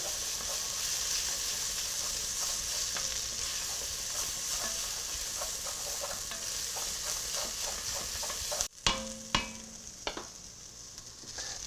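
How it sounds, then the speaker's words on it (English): Tomato paste being stirred into venison osso buco in a pan, a steady gentle sizzle with rhythmic scraping strokes, then a few louder clanks and taps near the end. "Mix this shit in good."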